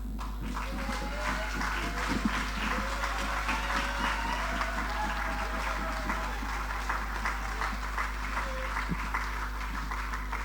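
An audience at a centennial celebration applauds in a steady wash of clapping, with a low hum underneath and some speech mixed in.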